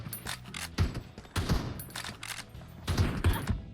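Bursts of gunfire in the mobile battle royale game PUBG Mobile, several short rapid volleys of shots spaced across the moment, fairly close and punchy over a faint game background.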